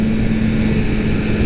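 A 2018 Kawasaki Z900RS engine revving toward high RPM, a loud, continuous, close roar with a steady buzzing drone throughout and no pauses.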